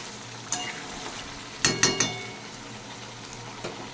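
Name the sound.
masala frying for aloo dum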